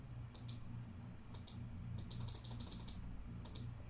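Quiet bursts of computer-keyboard typing, short runs of crisp key clicks separated by pauses, heard close over a low steady background hum.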